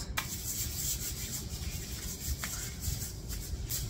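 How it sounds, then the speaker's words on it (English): Gloves worn for at-home underarm waxing are rubbed with oil, producing a steady, soft, continuous rubbing hiss close by at low volume, with no talking. "Next step, I personally like to oil my gloves."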